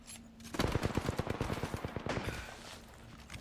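Rapid automatic gunfire in Apex Legends, a dense burst of close, loud shots in quick rhythm that lasts about two seconds and then trails off into a quieter tail.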